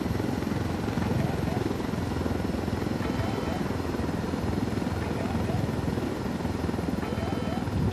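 Helicopter in the video game Ghost Recon Wildlands, its steady rotor drone loud and continuous throughout, with people talking over it.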